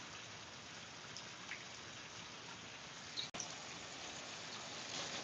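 Heavy rain pouring down outdoors, a dense, constant hiss of drops on surfaces, steady and even throughout with one brief click partway through.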